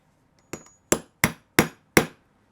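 Five sharp hammer strikes on a metal rivet setter, evenly spaced and ringing briefly, with quiet between blows.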